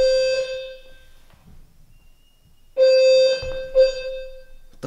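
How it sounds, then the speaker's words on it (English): A loud electronic alarm beeps in sustained high-pitched tones, sounding once, pausing, then returning with a longer tone while muffled thumps and movement happen nearby. "Did you guys hear that fucking alarm go off?"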